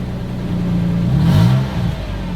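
A pickup truck engine with a cut exhaust revs up from a steady idle, the pitch climbing to a peak and then dropping back, heard close with no talking.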